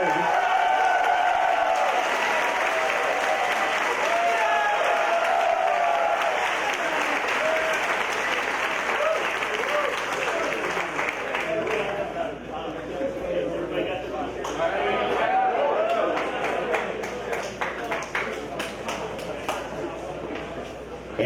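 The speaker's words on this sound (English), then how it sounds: "Let's give them a nice round of applause." Sustained applause from a large audience at the 2019 Formula SAE Lincoln awards ceremony, dense and steady for about twenty seconds and easing slightly midway, with an announcer's voice over it.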